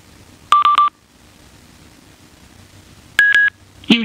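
A Schuberth C4 motorcycle helmet's Sena SC1 headset beeps while pairing: a loud, close triple beep, a pause, another sharp multi-tone burst and a final short beep, with quiet room tone between.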